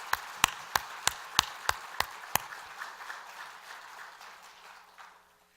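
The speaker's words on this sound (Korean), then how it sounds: "우리 하나님께 감사와 영광의 박수를 한번 올려드렸으면 좋겠네요" A church congregation claps in about eight sharp, evenly spaced beats, then breaks into softer scattered applause that fades away, heard from a moderate distance.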